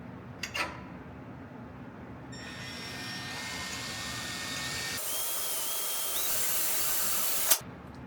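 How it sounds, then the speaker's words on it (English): A power drill with a number 29 twist drill and a little oil bores an 8-32 tap hole. A couple of clicks come first, then the motor whine builds in two louder stages and ends with a sharp click. "It's a number 29 twist drill."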